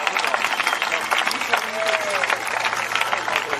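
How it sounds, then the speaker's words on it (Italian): Spectators at a horse show in Oristano, Sardinia, applaud a western working-riding demonstration, with dense, steady clapping and crowd noise under a voice speaking. "applausi"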